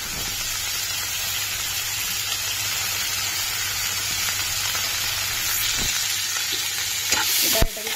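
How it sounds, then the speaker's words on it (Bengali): Potatoes and pointed gourd sauté in a pan with a little salt and turmeric, giving a steady, close frying sizzle with occasional stirring scrapes near the end and no talking. "কষিয়ে নেবো ভালো করে।"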